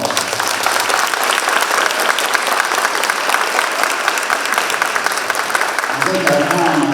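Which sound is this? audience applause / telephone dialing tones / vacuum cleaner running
audience applause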